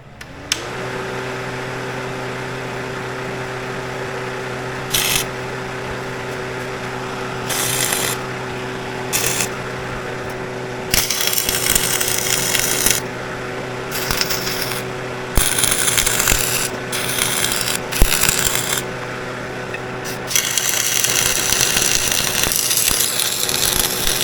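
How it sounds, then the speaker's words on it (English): Flux core wire welding on a Peterbilt truck hitch, a loud rough crackling hiss that comes in long bursts over the steady hum of a nearby fan. "Welded it up with flux core"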